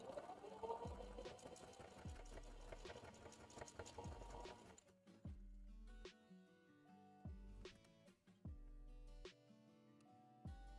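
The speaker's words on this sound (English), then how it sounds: "if you guys wanted to hear what my sewing machine sounds like, I'm gonna go ahead and run it through for this very briefly." A home sewing machine runs through fabric while a mask is being made, with several loud bursts of rapid mechanical stitching separated by short pauses. No voices are heard.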